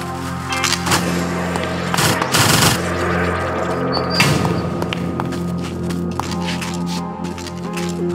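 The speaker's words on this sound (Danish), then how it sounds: "Lad os have nogle skud efter de sidste par zombier, der kommer her." Rapid gunfire from the zombie shooter video game Zombie Stories, bursts of sharp shots and thuds clustered in the first few seconds, then quieter game sounds and effects continuing alone.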